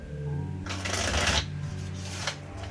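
Two quick bursts of tarot cards being shuffled up close, a crisp papery riffle followed by a shorter one, with a faint hum underneath.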